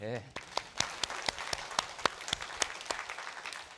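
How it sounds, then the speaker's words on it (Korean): A church congregation claps during a Sunday service, fairly faint, with distinct rhythmic hand claps repeating at a steady pace over a low murmur of voices. "박수 한번 쳐야 돼."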